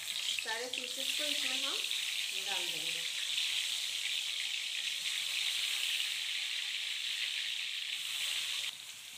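Pieces of elephant foot yam fry in mustard oil with a strong, steady, close sizzle that fills the whole stretch, while a voice talks briefly early on.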